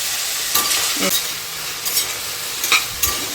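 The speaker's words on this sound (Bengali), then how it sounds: "ব্রকলিগুলোকে ভেজে নেব ব্রকলিতে দিয়ে দেব একটু লবণ" Broccoli frying in a pan with a pinch of salt for a chicken and fresh vegetable dish, giving a steady close sizzle broken by a few scraping stirs and light clinks.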